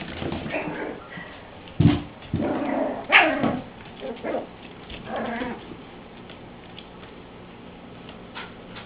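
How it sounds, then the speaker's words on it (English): A small cream-colored dog gives a few short, close barks and woofs amid soft shuffling and patter, with no speech. "That little woof."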